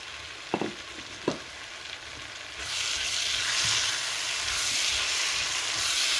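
Bhindi masala frying in oil as coriander goes in, a couple of sharp spoon knocks at first, then the sizzle swells into a loud, steady hissing fry with stirring underneath.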